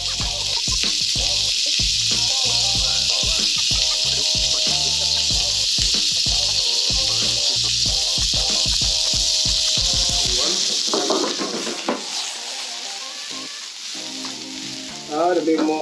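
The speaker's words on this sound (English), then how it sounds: "we're going to quickly saute some of our onions" Onions sauté in hot oil in a pan for a Middle Eastern kebab meal, giving a loud, steady close-up sizzle with rhythmic stirring scrapes that stop near the end, leaving a fainter hiss.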